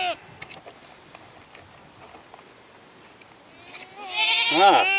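A goat bleats once, a loud wavering cry near the end, after faint shuffling and munching at feed during a taste test of honey grain and other goat feeds.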